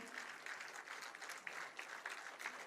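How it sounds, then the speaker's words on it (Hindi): A crowd applauds steadily, a dense patter of many hands clapping at moderate volume throughout. "तालियां जरा जोरदार हो जाएं माननीय मुख्यमंत्री महोदय के लिए"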